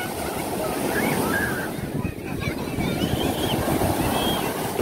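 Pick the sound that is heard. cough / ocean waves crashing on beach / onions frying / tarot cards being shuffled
ocean waves crashing on beach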